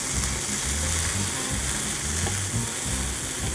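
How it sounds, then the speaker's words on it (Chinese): Chicken thighs pan-frying for Hokkaido soup curry, a dense, loud, continuous sizzle and crackle of fat with no talking. "咁而家咧，我哋煎一煎嗰個雞腿嘅嗰個表面啦"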